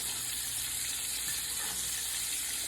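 Steak searing in an iron skillet over medium-high heat, a steady close hiss of sizzling fat that holds at an even level throughout without a break.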